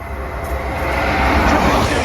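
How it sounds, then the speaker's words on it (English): An East Midlands Railway passenger service running from Sheffield to London St Pancras passes close by, a brief loud rushing rumble that builds toward the end. "we have a passing East Midlands Railway service from Sheffield to London St Pancras"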